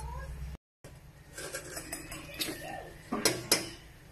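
Macaroni soup (sopas) goes into a cooking pot with metallic clinks and clatters of utensils against the pot, a few sharper knocks near the end, and a faint voice in the background.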